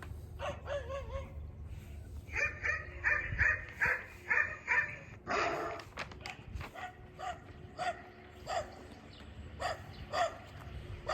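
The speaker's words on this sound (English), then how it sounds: "She's a little bit more bothered by the barking dogs." Recorded dogs bark from a puppy training app, repeated sharp barks and yips in irregular bursts at moderate volume, with some whimpering and other live dogs joining in.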